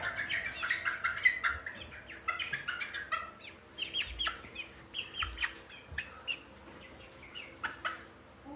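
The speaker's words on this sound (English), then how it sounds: "This is Samuel, or Sammy, the Speckled Sussex rooster." Chickens around a Speckled Sussex rooster clucking and chirping in a coop, a steady run of soft close clucks and short calls with occasional low shuffling thumps, faint overall.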